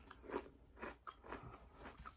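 Crunchy pepperoni chips snap and crackle in a few quick, close bites and chews, faint and alone without talking.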